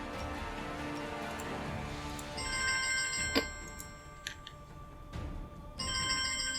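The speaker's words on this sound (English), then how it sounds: "Oh, that's my alarm." A phone alarm rings in a repeating electronic tone, moderately faint over a quiet background, with a few clicks and ticks between bursts and no talk.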